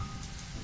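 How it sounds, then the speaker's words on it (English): Heavy rain pours in a steady, dense hiss, a faint continuous wash of noise with no voices over it. "It's raining really bad."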